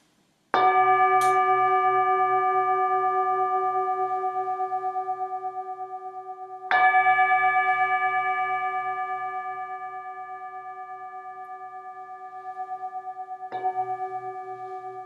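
A gong struck in a qigong class rings out with a loud, long resonant tone, struck three times, each stroke decaying slowly into the next with no talk.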